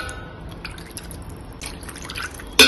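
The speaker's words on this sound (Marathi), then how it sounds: "आता हेच पाणी मी ह्या पुरणामध्ये थोडं टाकून मिक्स करून घेत आहे," Lentil cooking water is poured from a pot into puran filling for puran poli, giving a light trickle and drip, ending in a sharper splash.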